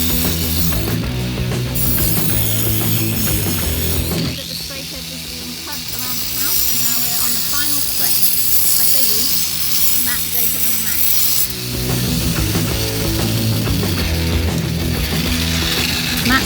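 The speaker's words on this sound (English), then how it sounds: "we are angle grinding the edge off to make it tidy" Angle grinder cutting the edge off a tile during house flood repairs, a loud continuous whining grind that drops away briefly in the middle before resuming, with people talking over it.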